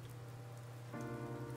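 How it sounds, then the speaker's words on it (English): Gentle rain falls steadily in the video game Blue Reflection, a soft continuous patter with a low background hum and a faint tonal layer entering partway through. "Hey Kada, it's raining!"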